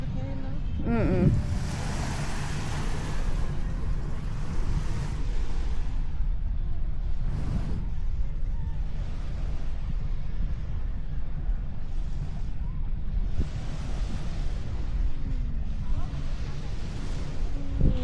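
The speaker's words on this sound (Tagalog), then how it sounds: "Mataas ang dagat ngayon, no?" High sea crashing against the shore in Cebu, a steady loud surf roar with surging swells and wind buffeting the microphone, under occasional soft voices.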